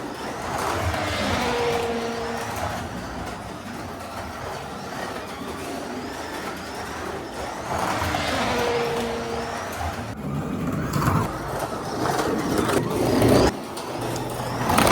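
A Carrera 124 Digital slot car, a BMW M4 GT3, running laps on a track gives a loud continuous motor whine that rises and falls in repeating sweeps as it passes, close and without talk.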